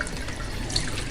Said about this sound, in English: So I just rinse it off.